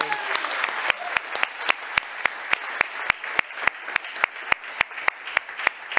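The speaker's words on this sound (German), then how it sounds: "Applaus!" Applause from a German football TV show's studio audience, sparse and uneven at first, then settling into regular single claps spaced evenly, clear and fairly close.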